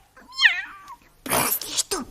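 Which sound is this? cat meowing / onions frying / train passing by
cat meowing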